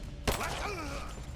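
A single sharp gunshot cracks in the video game Rise of the Tomb Raider, and a short strained voice cry follows right after.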